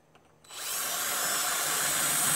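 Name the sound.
carbide bit grinding metal on a Scion xB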